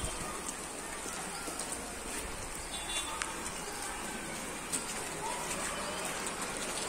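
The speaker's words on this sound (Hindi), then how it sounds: "बारिश पड़ रही है।" Steady rain in Nepal hisses softly and evenly throughout, with a few faint drips and distant bird sounds mixed in.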